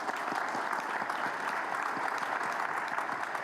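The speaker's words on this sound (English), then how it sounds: "Let's give him a round of applause" Conference audience at an airport business meeting applauds steadily, a dense even wash of clapping that holds at moderate level throughout without voices.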